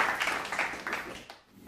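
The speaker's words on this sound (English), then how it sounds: "Give her a round of applause." A live audience applauds a home cook, a brief burst of clapping that swells and then fades out over under two seconds.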